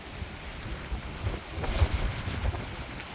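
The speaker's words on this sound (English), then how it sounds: "And it's still windy." Gusting wind in Melbourne rumbles and buffets steadily across the whole stretch, with low booming surges and a broad airy hiss, no voices present.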